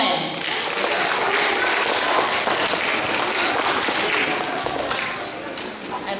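Students applaud at a school quarterly awards ceremony, a dense, steady wash of clapping from a large crowd that holds for several seconds and then thins slightly at the end.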